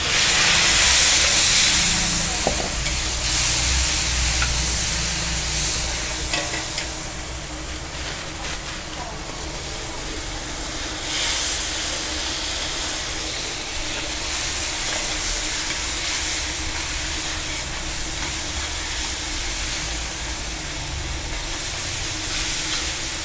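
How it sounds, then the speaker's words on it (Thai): Long eggplant stir-fried in a hot wok sends up a loud, steady sizzle and hiss with occasional scraping and clattering as it is tossed, a voice talking through it. "นี่มาดูผัดมะเขือยาว"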